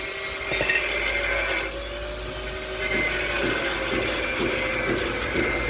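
Electric drill boring into a car wheel hub during a wheel spacer job, a steady whining motor hum with grinding, gritty contact noise running continuously at close range, no talking.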